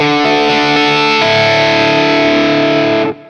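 A heavily distorted electric guitar, a Stratocaster, rings out in sustained chords with bubbly distortion, loud and buzzy, then cuts off abruptly.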